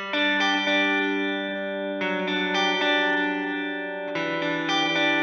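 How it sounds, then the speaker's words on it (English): A sustained, effected tone rings out in three swells, washed in reverb whose low end is EQ'd out, leaving a thin, bass-light body; no voices. "Of course, we've lost all of the low end on the signal there"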